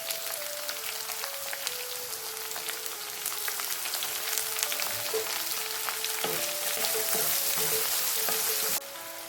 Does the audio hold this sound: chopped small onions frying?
yes